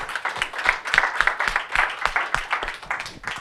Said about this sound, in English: please join me in giving a warm applause to this